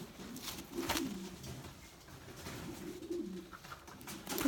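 A French Mondain pigeon being handled gives low, repeated coos close to the microphone, steady and moderately loud, with light rustling and no talking.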